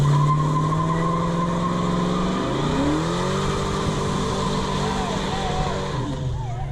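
A truck does a burnout, its tires squealing in a long, loud, wavering screech under the engine roar, with voices audible nearby.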